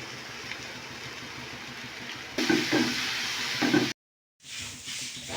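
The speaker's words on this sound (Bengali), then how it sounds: "পুরটা ভালো করে ভাজা হয়ে গেছে" Stuffing filling for bitter gourd, seasoned with chilli, amchur powder and salt, fries in a pan with a steady soft sizzle, with stirring scrapes partway through and a brief cut, and no one talking.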